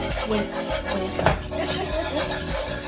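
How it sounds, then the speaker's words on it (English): A whisk scrapes steadily around a pot of cheese sauce for au gratin potatoes, a continuous rubbing, rasping sound with light metallic clinks, close up with no voices. "You don't want any lumps, so continuously stir, whisk."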